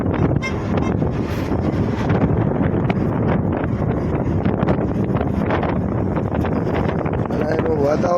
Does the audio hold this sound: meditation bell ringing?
no